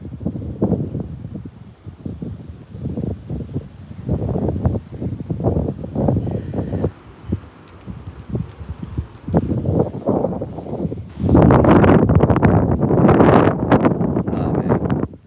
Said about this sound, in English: Oh man, the wind's picking up